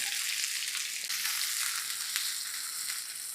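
Loud, continuous crackling sizzle of crushed garlic and sliced onion tempering in hot oil, close up and unbroken, with faint scraping underneath and no talking.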